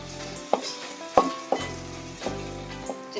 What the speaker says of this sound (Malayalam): ഗ്രേവിക്ക് വേണ്ടി അപ്പോൾ നമുക്കിനി അടുത്തത് വെളുത്തുള്ളി ഇഞ്ചി പേസ്റ്റ് ഇട്ട് കൊടുക്കാം